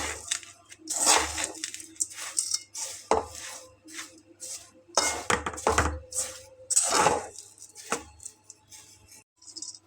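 Fried vermicelli being stirred with powdered milk in a pan for Eid lachha semai, with irregular scraping and clinking of a utensil against the pan in bursts, close by, separated by brief quiet gaps.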